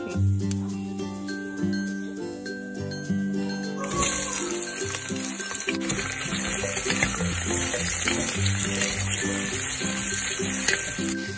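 Onions frying in oil with salt for chana masala. The sizzle is steady and jumps to a loud, bright hiss partway through, over low background music.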